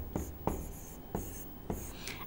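Quiet writing on a board during a math lesson, a few short scratchy strokes and taps in an irregular rhythm.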